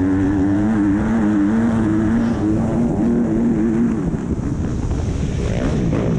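A 2020 KTM SX250 two-stroke motocross bike races at Leisure Lakes MX. A loud, buzzing engine note wavers in pitch beneath heavy rushing wind noise.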